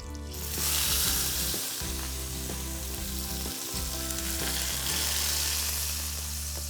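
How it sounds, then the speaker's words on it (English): Pork chops sear in a hot pan with a loud, continuous close-up sizzle and crackle, joined by a few brief clinks or stirring bumps, no voices. "Proper searing is mostly about flavor building."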